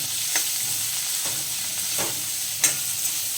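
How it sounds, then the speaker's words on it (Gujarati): A spoonful of turmeric stirred into a hot onion tempering in a pan, a continuous gentle sizzle with a few light spoon scrapes spaced a second or so apart. "હવે આપણે એક ચમચી મીડિયમ સાઇઝની હલ્દી નાખી દઈશું હવે આપણે મિક્સ કરી દઈશું"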